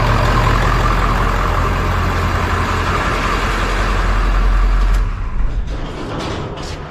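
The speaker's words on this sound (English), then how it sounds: "So now let's turn off the engine." A Ford truck engine idles loudly and steadily at close range, then cuts off about five seconds in, leaving a quieter tail with a few brief clicks and knocks.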